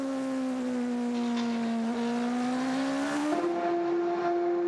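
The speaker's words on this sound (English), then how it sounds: "On board with the 8 car of Sarrazin yet again. Oh, listen to that." A loud, steady race car engine drones from on board during the 2013 24 Hours of Le Mans, pitch holding high then rising sharply as it shifts and revs, with no talk over it.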